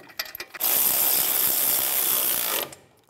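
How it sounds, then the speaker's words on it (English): A ratchet spins hub assembly bracket bolts tight on a Ford Explorer during a wheel bearing replacement: a few clicks, then a continuous loud buzzing whir for about two seconds, close by, that fades off. "Take the bolts, get them started."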